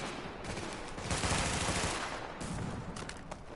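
Bursts of rapid automatic gunfire from The Division video game crackle densely and continuously, loud and overlapping, with no speech.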